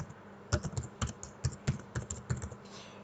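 Rapid keystrokes on a computer keyboard as a name is entered, a quick irregular run of close, crisp clicks with short pauses, no voices.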